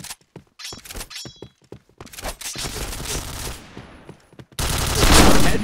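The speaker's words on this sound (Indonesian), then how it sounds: "Tuh, langsung nembak lah dia." Rapid gunfire in the online shooter Point Blank: bursts of sharp, close shots with short gaps, building to a dense, loud sustained volley at the end.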